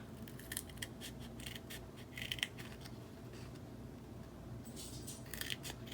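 Scissors snip mini paper dimensionals in half at a craft table, a string of quick, close snips in small clusters over a steady low background hum.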